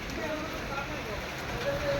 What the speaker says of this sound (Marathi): हो बघा तर पाऊस किती फास्ट चालू आहे